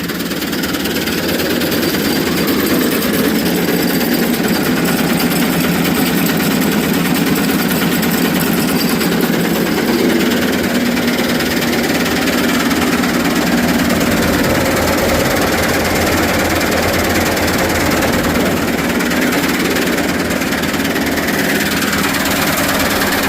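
A haybine's engine runs loud and steady from start to finish, a dense, noisy mechanical roar with a rough, knocking undertone and no voices.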